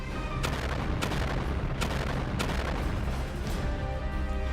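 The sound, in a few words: Houthi missile explosions around a ship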